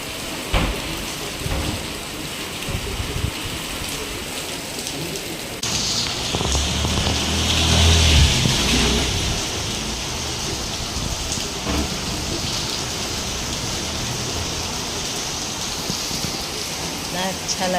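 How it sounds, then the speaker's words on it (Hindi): Heavy rain pours down at night, heard from indoors at home, a dense steady hiss that swells and roars louder for a few seconds midway, with occasional low rumbles underneath. "अभी जोर से बारिश हो रही है"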